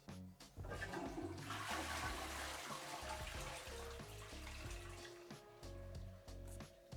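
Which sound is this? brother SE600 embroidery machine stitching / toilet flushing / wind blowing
toilet flushing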